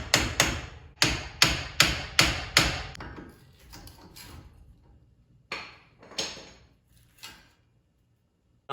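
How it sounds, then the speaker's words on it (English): A hammer strikes a seized front brake caliper on a 2007 Honda Pilot: six sharp metallic blows in quick, even rhythm, then several scattered softer taps, close and loud with no talk. "I'm going to use a hammer to try and crack this thing loose so I can get the brake pads up."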